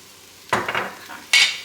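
Chili ingredients are stirred in a pot with a spoon, two short scraping, rustling bursts close by with a faint sizzle between them and no talking.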